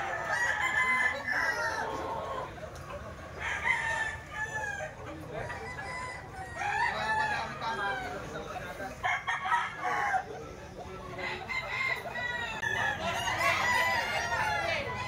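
Gilmore gamecock roosters crowing repeatedly, several loud cock-a-doodle-doo calls overlapping with clucking fowl, close by and far, in a busy poultry yard with faint voices in the background.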